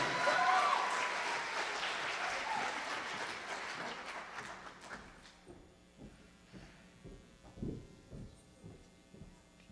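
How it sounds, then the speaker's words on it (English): Audience round of applause at a school spring choir showcase, loud and dense at first, then thinning into scattered claps over the last few seconds, with a low hum underneath. "let's encourage them with a big round of applause right now"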